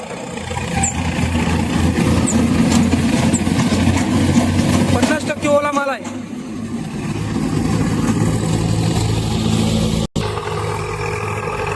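A tractor-driven axial flow soybean thresher drones steadily with a low, dense rumble throughout, while a voice speaks over it, briefly cutting out near the end.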